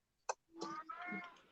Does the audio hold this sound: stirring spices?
no